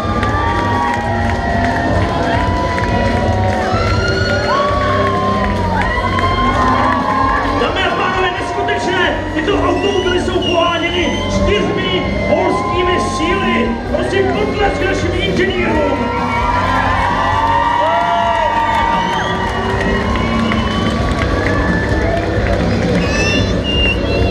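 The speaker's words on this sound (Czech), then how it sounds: "Prosím, obrovský potlesk." A large crowd cheers, shouts and applauds at the start of a running race, with children shouting and whoops in a continuous loud roar mixed with babble and voices throughout.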